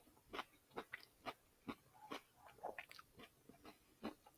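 Crunchy vegan fish tacos topped with peppers are chewed close to the microphone, giving about a dozen sharp, crisp crunches in a steady rhythm, quiet and intimate, with no talking.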